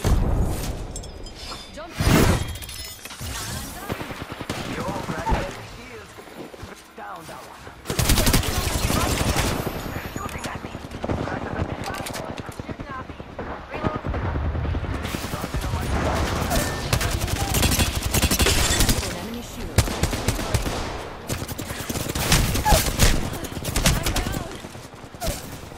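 Video game gunfire in a shooter match, with dense bursts of rapid automatic fire, sharp cracks and blasts that fill most of the stretch in loud waves, brief lulls between, and players talking over it.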